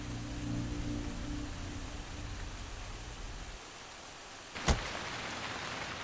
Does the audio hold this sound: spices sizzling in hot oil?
no